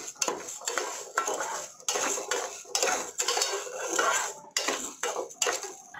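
Ration rice is dry-roasted in a pan on the stove for rice laddu while a metal spoon stirs and scrapes it. The stirring comes in steady, close rasping sweeps with brief breaks, and no talk is heard over it.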